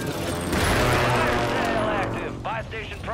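Gunfire bursts in the Call of Duty Warzone video game on Rebirth Island, a dense loud fusillade with game effects, while a voice talks over parts of it.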